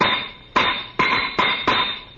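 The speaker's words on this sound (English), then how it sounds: "Remley, do you have to hammer in rhythm?" Steady rhythmic hammer blows strike in a regular beat, about five loud metallic knocks over two seconds, a radio comedy sound effect of someone working on a car.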